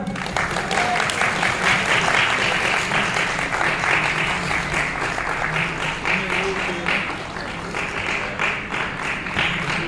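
An audience at a college freshers meet in Haflong claps and applauds in a sustained, even wash of clapping, with crowd murmur underneath throughout.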